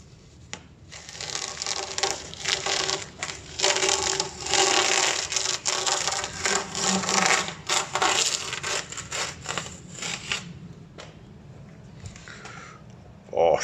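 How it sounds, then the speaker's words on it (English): Masking tape peeled off freshly painted bare metal on a Mazda MX5 while stone chip coating is still wet, giving a loud, continuous crackling rip with uneven bursts, up close and alone. "I'm going to peel that off."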